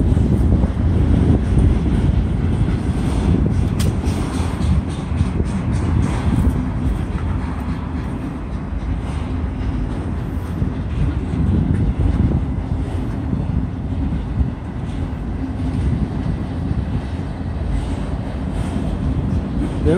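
A slow westbound CSX autorack freight train passes a State Route 635 crossing, giving a sustained, loud low rumble and rolling clatter of railcars for the whole stretch, with some wind buffeting on the microphone.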